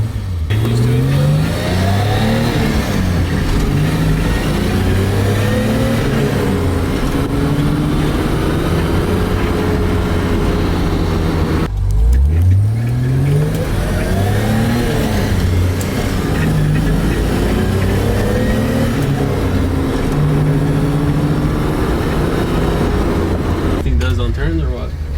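Heard from inside the cabin, a 1989 BMW E30's engine revs up through rising pitches, drops as a gear changes, then pulls hard again, loud and continuous throughout.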